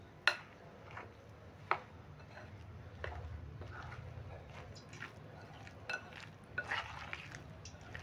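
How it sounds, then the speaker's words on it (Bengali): A spoon stirs soybean pakora batter in a bowl, making soft wet squelches with scattered sharp taps against the bowl's side, fairly quiet and close with no talk. "আমি প্রথমে চামচে করে মিক্স করে নিচ্ছি"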